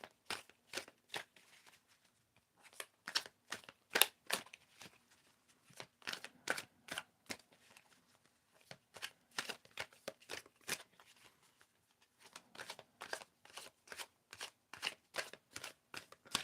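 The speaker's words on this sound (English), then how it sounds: "Tell me when to stop shuffling." Rapid riffle-shuffling of a deck of cards, crisp bursts of flicking repeated in quick rhythmic runs with short pauses between, close and clear, no talking.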